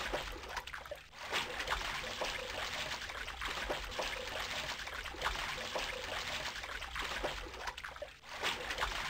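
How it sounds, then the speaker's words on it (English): Continuous rushing, pouring water in a video game, a broad steady wash of flowing sound with slight surges, moderately loud and unbroken by speech. "there sure is a lot of water here"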